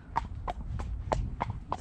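A tired eventing horse walks on a hard surface after jumping, its hooves clip-clopping in a steady, close rhythm of about five to six strikes, with no voices.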